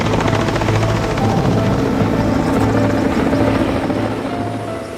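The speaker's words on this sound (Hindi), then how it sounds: "हेलीकॉप्टर उसी के ऊपर मंडरा रहा है।" A helicopter hovers low over a baby rhino in open bush country, its loud, steady rotor and engine drone filling the whole stretch and easing slightly toward the end, with no voices.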